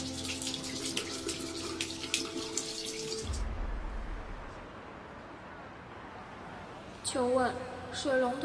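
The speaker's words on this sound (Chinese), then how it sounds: "水龙头坏了，该怎么修啊？" Water rushes from a broken faucet, a broad steady hiss in the middle stretch, framed before and after by tonal, voice-like sounds.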